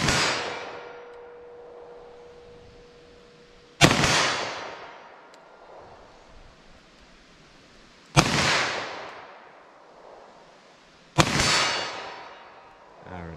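.357 SIG pistol shots fired into ballistic gel ring out four times at spaced intervals, each loud sharp crack trailing into a decaying echo, with no talking.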